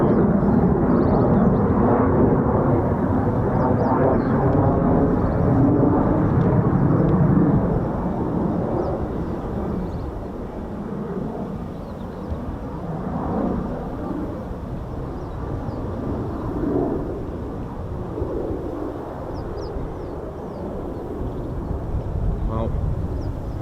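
Aircraft passing at an RAF air show, a loud, deep roar at first that eases into a lingering distant rumble, with people talking over it.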